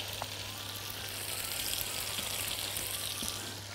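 Butter hitting a hot pan with crushed garlic gives a steady, fairly quiet broadband sizzle with a faint low hum beneath, unchanging across the few seconds with no voices.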